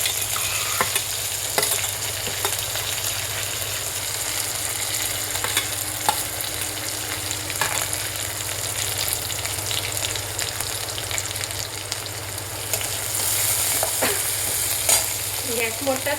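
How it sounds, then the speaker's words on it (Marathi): Finely chopped vegetables including beetroot, carrot, cabbage and green chilli sizzle steadily in a hot pan over high heat for momo filling, a continuous close frying hiss with occasional stirring scrapes. "भाज्याही लगेच आपण परतून घेणार आहोत।"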